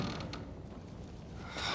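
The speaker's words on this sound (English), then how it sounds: "Kick the door open." A door kicked open in The Last of Us, giving a drawn-out mechanical creak that stays faint and fairly steady with no one speaking, rising slightly toward the end.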